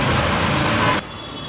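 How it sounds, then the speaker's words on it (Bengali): A college bus pulling up in road traffic, a loud close engine roar that cuts off abruptly to quieter background noise. "এই যে বাস এসে গেছে"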